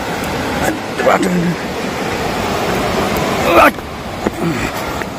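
Steady rushing of a river flowing close by near Legship in the hills, a broad continuous roar of water with brief voices talking over it.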